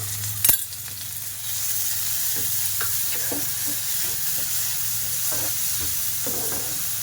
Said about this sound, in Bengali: ওর মধ্যে আমি 1 চামচ আদা রসুন বাটা দিয়ে দিলাম।